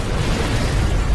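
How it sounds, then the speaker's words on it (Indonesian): A launched warhead explodes in a war film, heard as a steady, dense, low rumbling roar that fills the whole moment without a break. "Matoba langsung meluncurkan hulu ledak untuk menghancurkan Gunung Fuji dalam waktu 20 menit ke depan."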